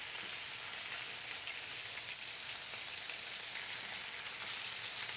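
Hamburger steak sizzling in a hot frying pan, a steady dense crackle and hiss that holds evenly throughout, close and moderately quiet, with no voices.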